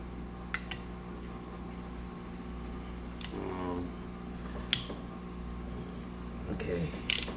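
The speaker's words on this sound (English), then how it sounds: "Let me try to take these bolts off the top real quick." Ratchet working bolts loose on a Yamaha Banshee dirt bike engine bottom end during teardown, a few short ratcheting clicks and metallic clinks over a steady background hum.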